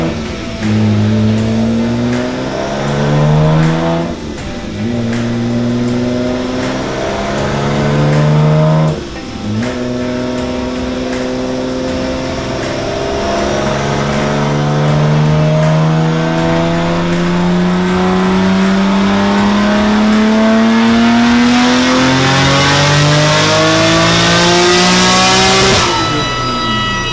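A built Nissan Skyline R32 GTR engine screams through a loud dyno run, climbing repeatedly through the gears with brief drops between shifts, revs rising steadily to a hard peak near the end before cutting off.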